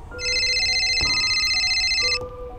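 A telephone rings loudly up close in two bursts of steady electronic trilling, with a brief gap between them and no voices.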